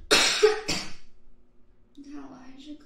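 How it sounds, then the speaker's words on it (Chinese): A person coughs twice in quick, harsh bursts close to the microphone, followed by quiet breathing and a faint throat sound. "你看，我还是咳嗽。"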